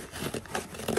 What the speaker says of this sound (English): let's try to open this small box with a pair of scissors here